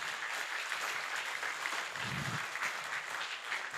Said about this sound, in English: can we please give a round of applause to him?